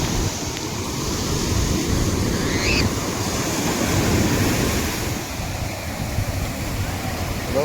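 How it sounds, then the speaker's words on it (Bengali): Sea waves breaking on a beach, a steady broadband wash of surf with gusty wind noise across the microphone, continuous and fairly loud throughout, with faint voices now and then. "এই ঢেউটা খুব ভালো আছে"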